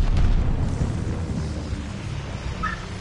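Deep, rolling explosions from a bombing run in Call of Duty: Vanguard, a loud sustained rumble of booms with a sharper burst at the start, thundering steadily as a background barrage.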